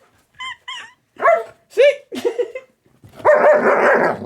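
A pet dog barks and yips in short bursts close by, a string of sharp barks followed by a longer excited whining bark, with a brief spoken word among them.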